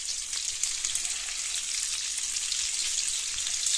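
Onions and potatoes fry in fat in a pan, giving a steady, close, even sizzle with fine crackling and spitting. No one talks over it.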